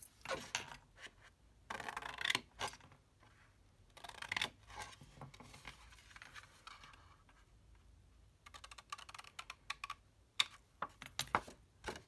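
Scissors snip notches into fabric for a small matching box, quiet clusters of quick close clicks and cuts in irregular bursts separated by short pauses, with no talking.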